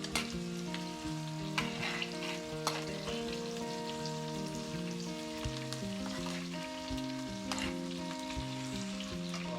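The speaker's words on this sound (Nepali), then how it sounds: "अलिअलि तेलमा भुट्छु" Steady sizzling of garlic and chili frying in hot oil, continuous throughout, with a melodic music track playing over it.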